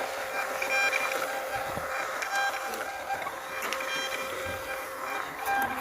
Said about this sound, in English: I am going to install these other labels here and see if it actually prints from the phone